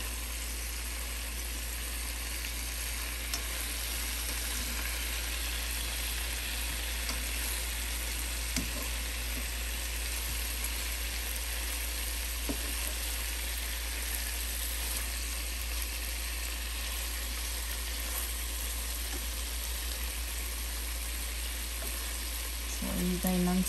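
Honey gin garlic chicken drumsticks sizzle and fry in a pan over medium-low heat, a steady crackling hiss lasting throughout with occasional stirring clicks and a soft hum underneath.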